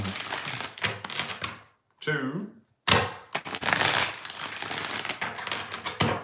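Tarot cards are shuffled in short crisp riffles with clacking and flicking, while a woman counts aloud between the bursts, followed by a brief pause of near silence.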